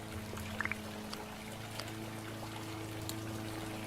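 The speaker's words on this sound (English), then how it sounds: "Oh, I still have to water these." Plants are watered in a video game: a steady, soft pour of water runs continuously, faint against a low hum, with no talking.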